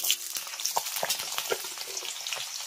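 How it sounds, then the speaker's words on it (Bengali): Nigella seeds and green chili fry in hot oil, giving a close, crackling sizzle dotted with quick spits and pops, steady throughout without any talking. "কাঁচা লঙ্কার কালো জিরেটা যখন এরকম সুন্দর করে ভাজা ভাজা হয়ে যাবে"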